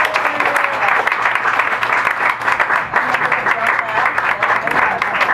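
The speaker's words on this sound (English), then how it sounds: "give a round of applause" Audience applause fills a comedy show venue, the Lantern, as a set ends: dense, steady clapping from a crowd, loud and continuous throughout with some cheering mixed in.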